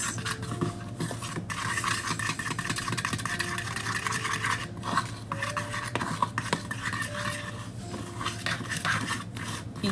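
Sugar cookie dough being stirred and mixed in a bowl for Valentine's Day cookies, a close, continuous scraping and clinking of a utensil against the bowl with brief pauses.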